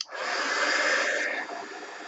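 A hair dryer blows steadily at close range over mixed media artwork, a continuous whooshing roar that starts abruptly and shifts slightly in tone partway through.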